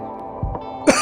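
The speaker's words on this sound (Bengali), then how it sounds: "সরি আমার কাশি হচ্ছে এখন খুব" Two short, close coughs from a person at home, one soft and one sharper, in otherwise quiet surroundings.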